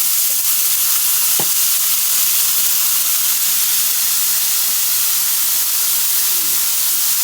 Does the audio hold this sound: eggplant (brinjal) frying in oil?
yes